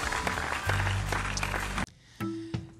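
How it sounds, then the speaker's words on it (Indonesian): Children clapping their hands at an online Sunday school session, a burst of fairly loud clapping that breaks off abruptly, followed by a short quieter tail with a tone and a few faint knocks. "Tepuk tangan buat Tuhan Yesus."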